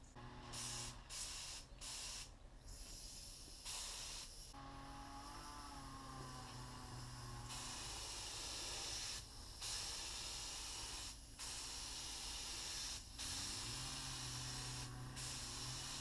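Spray gun misting 2-pack lacquer, mixed with hardener and thinners, onto a Panther Villiers Model 50 motorcycle fuel tank: a steady broad hiss in long bursts with several brief pauses between passes, fairly close and alone.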